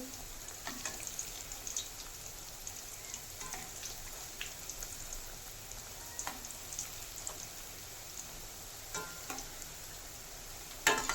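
Balushahi dough pieces frying in hot oil, a soft continuous sizzle with scattered light pops and crackles, faint and close, no talking.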